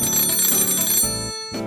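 An old telephone rings inside a preserved Showa-era Japanese retro house, a loud, dense metallic bell trill that sounds continuously, then stops and briefly starts again, with no voices.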